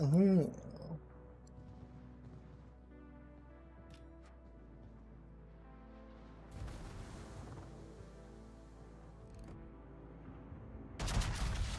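Warship secondary and main guns firing in the naval game World of Warships, with a loud opening volley, a rumbling mid-clip salvo and another heavy burst at the end, separated by quieter battle ambience.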